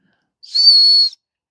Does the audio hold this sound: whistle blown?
yes